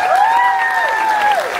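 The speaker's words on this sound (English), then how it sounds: "Everybody, please give a big round of applause to Kai" Audience on the Carnival Jubilee cruise ship applauds a 94-year-old guest, steady clapping for under two seconds with a sustained whistle-like tone gliding over it.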